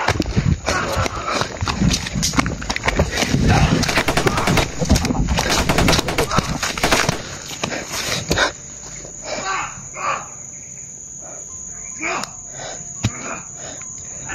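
Rapid bursts of gunfire crackle loudly for several seconds, then stop abruptly, leaving a quieter scene with scattered shouting voices.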